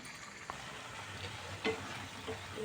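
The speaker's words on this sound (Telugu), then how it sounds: "ఇది బాగా ఫ్రై అవ్వాలి" A pan fries steadily with a soft, even sizzle, close by and fairly quiet, with a few faint scraping clicks of stirring and no talk.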